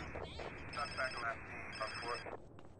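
A phone rings in Grand Theft Auto: San Andreas, repeated electronic trills in two bursts over game background, with someone talking in German at the same time.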